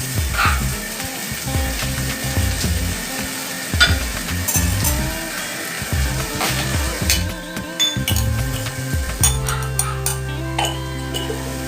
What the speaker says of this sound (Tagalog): Igisa-gisa ko lang yan.